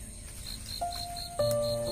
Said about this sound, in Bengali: এদিকে ঝিঁঝি পোকা ডাকছে, আর অন্ধকার কুপার, একদম অন্ধকার।